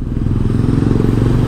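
A motorcycle pushes through deep flood water at an MRT 7 construction depot, a steady near engine drone with churning, clattering splashes throughout.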